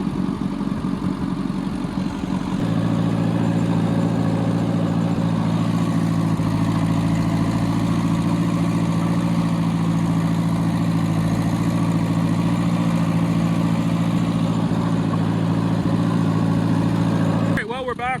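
The engine of a half-track tractor idles outside in snow, a steady, loud, low droning hum with a constant pitch that holds for most of the stretch, with a few brief sounds near the end.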